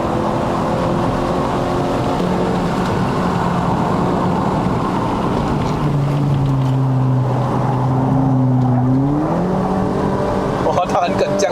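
A Ford Fiesta 1.6L Sport engine on a hill climb up the Genting road in Malaysia, droning steadily and then rising in pitch as it downshifts, with people talking over it inside the car.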